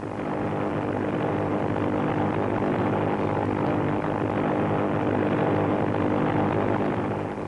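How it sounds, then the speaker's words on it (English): A propeller warplane flies over the Philippine islands during a 1951 wartime attack mission, its engines making a continuous, heavy droning roar that holds steady throughout with no voices. "As the planes flew southward on their mission"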